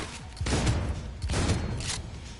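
Two heavy booming shotgun blasts from the Cyberpunk 2077 video game, spaced about a second apart, each with a short rumbling tail and no talk over them.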